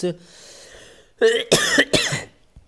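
A person with a cold coughs several times in a quick cluster, close and loud, after a brief stretch of speech.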